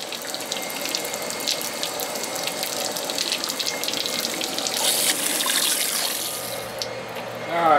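Water runs steadily from the water tube of a Johnson 20 hp outboard motor hooked to a hose, a continuous hiss with light mechanical clicks and a brief louder splash near the end.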